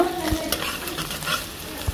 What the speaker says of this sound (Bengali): পেঁয়াজ কুচি দিয়ে দিচ্ছি। পেঁয়াজটা ভালোভাবে লাল করে নিব।